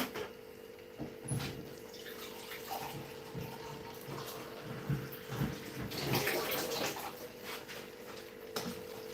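Water runs steadily from a tap, seemingly filling a bathtub, a faint continuous gush with a few scattered drips and clunks.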